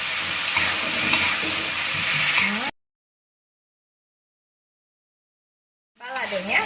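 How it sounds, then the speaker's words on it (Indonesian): Tuna balado with kecombrang (torch ginger) sizzles and is stirred in a frying pan, giving a loud, close hiss that cuts to total silence, then returns briefly alongside a speaking voice. "Kita aduk rata sampai meresap ya ke daging-dagingnya"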